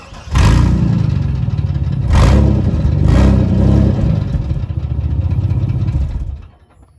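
A 1998 GMC Sonoma pickup's engine revs loudly up close with a water bottle fitted over the exhaust pipe, a deep rumbling roar swelling in a few surges before cutting off at the end.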